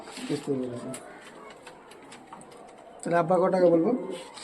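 Pigeons, high flyers and Giribaz tumblers kept by a father-and-son breeder, cooing in two short throaty bursts at close range, with a quieter gap of room noise between them.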